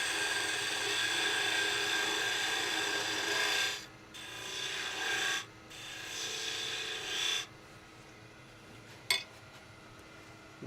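Spindle gouge cutting a spinning wooden finial on a lathe, a steady broadband rasping hiss in sustained passes broken by short pauses, close and fairly loud, with a sharp tick near the end.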